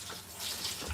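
Running water rinses a dog during its first shower, a steady, soft, close hiss of spray and splashing with no talking.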